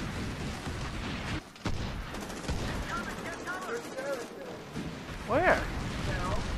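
Gunfire in the video game Medal of Honor Warfighter: rapid, dense shots crackle steadily throughout, with a brief lull early on, mixed under a voice talking in the foreground.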